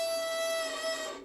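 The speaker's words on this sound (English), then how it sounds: "then it means the bow's crooked" A short, quiet bowed violin note played with a crooked bow, the tone wavering slightly for about a second before fading out.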